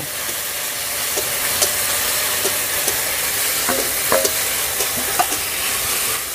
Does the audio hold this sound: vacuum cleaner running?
no